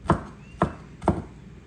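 Knife chopping vegetables on a cutting board in a home kitchen, three sharp separate chops spaced about half a second apart, close and fairly loud with no talk.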